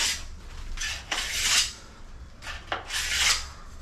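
Grout between tiles is scraped with a hand tool before it dries, giving repeated rasping strokes, close and fairly loud, in an uneven rhythm of about four long passes.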